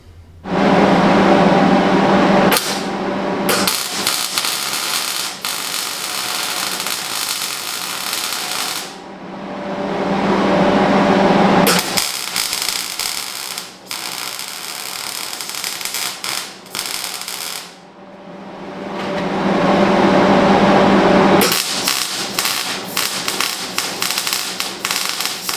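A welder tack welds steel control arm mounts for a K24-powered prototype racer, giving three long loud bursts of harsh buzzing crackle, close by, with short quiet gaps and a few clicks between them.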